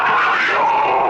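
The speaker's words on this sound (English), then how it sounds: "Panther." A panther sound effect from a game sound pack: a loud, sustained growling roar held steadily for about a second, rough and harsh throughout, with no speech over it.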